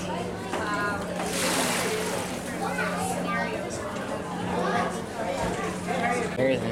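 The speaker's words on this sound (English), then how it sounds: "Here comes the waves." Waves splash and slosh in an oceanography institute wave tank at an open house, a steady wash of water running throughout beneath a constant hum, with people chattering over it.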